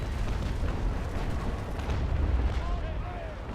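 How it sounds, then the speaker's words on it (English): Frigate cannon broadside fired in the naval sailing game Naval Action Legends, a continuous rumbling roar of overlapping booms filling the whole stretch, with brief faint whistling tones near the end. "That was pretty decent broadside."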